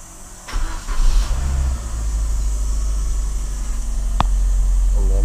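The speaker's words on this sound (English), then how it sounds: "Start the car." Engine of a 2005 first-generation Suzuki Swift (ZC21S) cranking and catching near the start, then settling into a loud, steady close idle that hums on for the rest of the clip.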